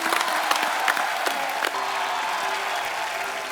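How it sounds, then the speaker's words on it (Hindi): A studio audience at a comedy show claps loudly and steadily for the team, with some cheering mixed into the dense, continuous applause. "एक बार पूरी सारात टीम के लिए जोरदार तालियां हो जाएं।"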